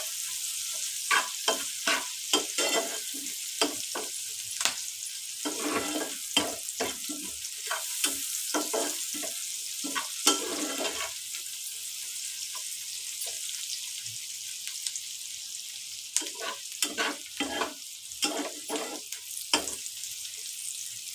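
Egg going into browned onions frying in a pan, with steady sizzling and repeated stirring scrapes in an irregular rhythm, close and moderately loud, with no talk.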